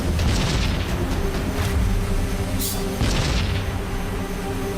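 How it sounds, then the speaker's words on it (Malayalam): Cartoon explosions boom one after another in an animated chase where a dangerous robot lion pursues a character, with dense, continuous rumbling blasts filling the scene and sharp bursts rising above a loud, steady roar. "അവിടെ ഇവിടെ എല്ലാം ബ്ലാസ്റ്റ് ആവുന്നുണ്ടല്ലോ."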